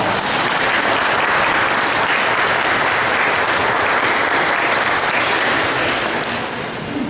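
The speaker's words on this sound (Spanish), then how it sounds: "con un fuerte y caluroso aplauso" Loud, sustained applause from a conference audience welcoming a speaker at an event on women's empowerment, a dense wash of clapping that holds steady for about seven seconds and eases slightly at the end.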